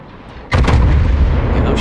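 A 16-inch battleship gun salvo booms suddenly in a naval warfare game, one loud close blast followed by a rolling, sustained rumble.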